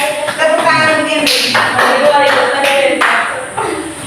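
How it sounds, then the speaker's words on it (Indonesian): Hands clap in a classroom as applause, in a few broad bursts with talking voices going on over and around the clapping. "Tepuk tangan untuk ini."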